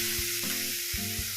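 Cooked koorka, Chinese potato, sizzles in a hot pan with spice powders for koorka mezhukkupuratti, a steady hiss broken by soft stirring knocks, no talk.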